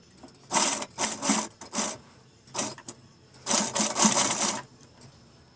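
Sewing machine stitching piping onto a blouse, running in short close bursts of rapid clatter separated by pauses while the presser foot is lifted and the fabric turned.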